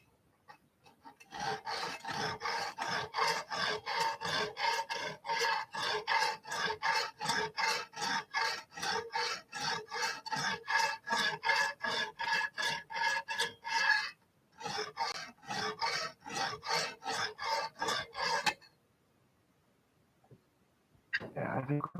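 Rapid rhythmic rasping strokes of a Lansky knife sharpener in a garage, dozens of quick back-and-forth passes in bursts with brief pauses, close and distinct, one longer gap near the end before strokes resume.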